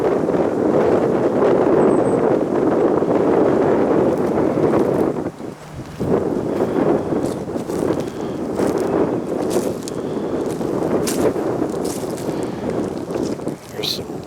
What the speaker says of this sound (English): The wind is starting to pick up.